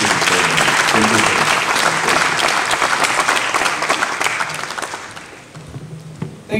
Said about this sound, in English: Round of applause as she makes her way to the podium.